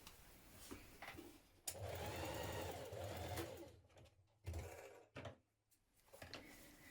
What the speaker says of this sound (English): Along the angled seam here we're going to sew, and then we're going to sew along the straight edge at the bottom.